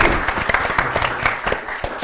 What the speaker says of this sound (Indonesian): tepuk tangan doang kayak lagi taman ria.